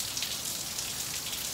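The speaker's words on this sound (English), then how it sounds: "rain is expected to continue through this evening" Steady rain falls on a surface as an even, continuous hiss that stays at the same level the whole time, during a record-wet October in Arizona. No voices can be heard.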